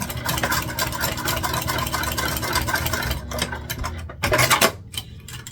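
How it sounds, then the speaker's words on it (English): A sewing machine stitches the end of a 10-inch piece of webbing together, a rapid mechanical chatter running steadily, then stopping and starting in short bursts near the end. "I'm just going to sew this end together quickly so that it stays where we want it."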